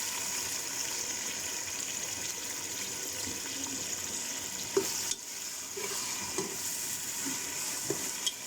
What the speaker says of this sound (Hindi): अब मैं इसमें चॉप किया हुआ जो प्याज है वो डाल देती हूँ।